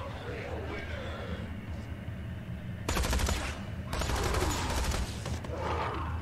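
Gunfire in the video game Tales from the Borderlands, dense bursts of rapid automatic shots in two long stretches over a busy game soundtrack, with a voice talking at times.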